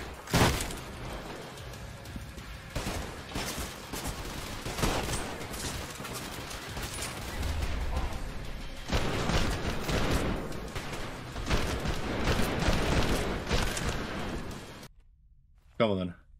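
Gunfire in the shooter game Trepang2, rapid bursts of shots and automatic fire in dense clusters across the whole stretch, with a player talking over it.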